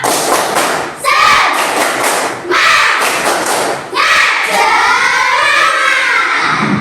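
A classroom of primary schoolchildren performs a clapping chant in loud, strongly accented bursts, their voices shouting in unison between the clap groups, with short pauses separating three phrases.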